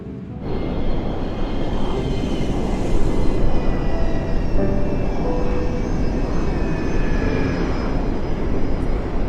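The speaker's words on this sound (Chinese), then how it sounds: "感觉飞机声音变小了吧？" Airliner engines roar loud and steady from inside the cabin during takeoff and climb, with faint whining tones riding over the deep rumble.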